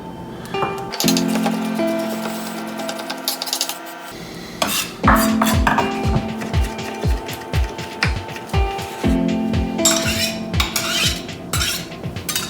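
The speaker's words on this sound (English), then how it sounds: "So first I'm gonna chop up my mushrooms." Mushrooms chopped with a knife on a board, a run of quick rhythmic knife taps in bursts with brief pauses, close and clear, with some clinking of kitchenware between.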